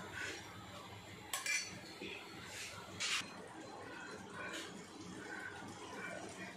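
A spoon scrapes and knocks against a pot while curry masala for a festive biryani gets stirred, producing a few soft clinks and scrapes over a quiet, watery background, faint and close, with no talking.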